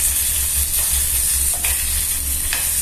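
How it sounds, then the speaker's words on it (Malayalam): Ripe tomatoes with salt fry in a pan for a tomato rasam, giving a steady, close sizzle with a few light stirring scrapes and no voices. "പിന്നെ കുറച്ച് ഉപ്പ് ഇട്ട് അതൊന്ന് ഫ്രൈ ആക്കി എടുക്കാം"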